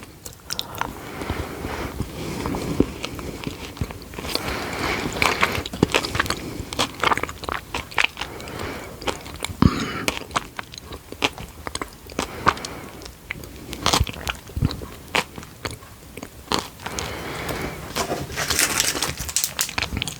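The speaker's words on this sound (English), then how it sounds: "you've got the crunch and the toffee flavours in there" Close, crisp biting and chewing of crunchy orange toffee chocolate, with repeated crackly crunches and soft mouth sounds running steadily throughout.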